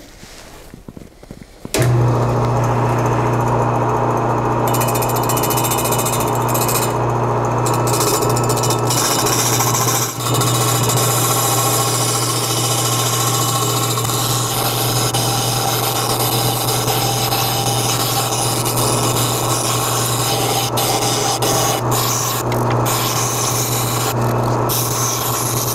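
Power tool shaving wooden spool pieces round, starting abruptly after a short quiet lead-in and then running loud and steady with a constant droning whine and rough grinding texture.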